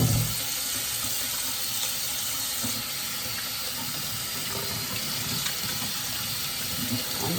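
Tap water runs steadily in a kitchen sink as hands are washed with soap, a continuous close hiss and splash with no talking.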